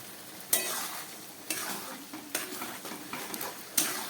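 A spice paste of ginger, garlic, onion, green and dried chillies, cumin and pepper is sautéed with tomato in oil and ghee, the soft sizzle broken by several sharp spoon scrapes against the pan.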